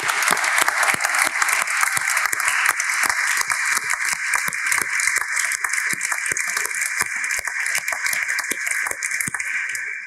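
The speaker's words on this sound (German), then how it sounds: "Also Applaus an unsere Startups." Audience applause for startups at an award ceremony in Aachen, a dense, steady patter of many hands clapping close and loud for the whole stretch, with no talk over it.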